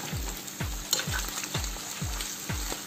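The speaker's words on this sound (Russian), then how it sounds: "лук обжариваем с нашим отваренным желудком" Onion frying with boiled pork stomach in a pan, with a steady sizzle and crackle and rhythmic scraping stirs repeating about every half second.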